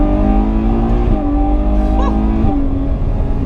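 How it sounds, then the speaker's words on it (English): Ferrari 812 Superfast 800-horsepower V12 pulls hard on the Fiorano track, a loud close droning engine note with rising tones and brief gear-change steps, continuous throughout. "Well, 800 horsepower Ferrari V12."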